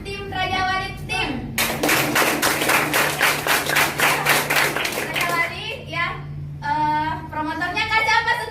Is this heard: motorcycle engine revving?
no